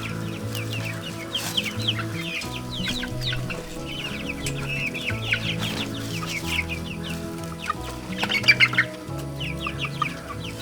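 Young chickens near their coop cluck and chirp continuously over a low steady background, with a brief livelier cluster of calls toward the end.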